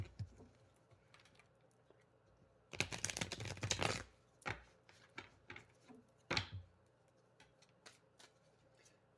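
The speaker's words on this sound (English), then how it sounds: "Let's give a good shuffle." Tarot cards being shuffled by hand, a quiet riffling burst of about a second followed by scattered soft taps and flicks, with another short riffle later, close and with no talk.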